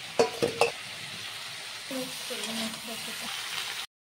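Cauliflower, tomato and cumin-powder vegetables frying in a pan. A few sharp utensil clinks come first, then a soft sizzle with stirring, fairly quiet and ending abruptly.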